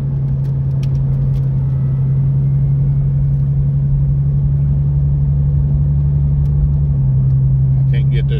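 A car engine rumbles steadily at close range, its low drone about three feet behind the listener's head, loud and unbroken throughout.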